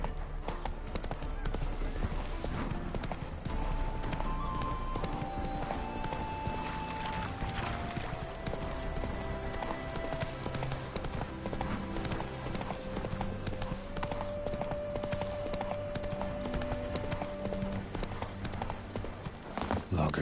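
Horse hooves gallop in The Witcher 3, a steady, rapid clip-clop running throughout, with a music score and a voice over it.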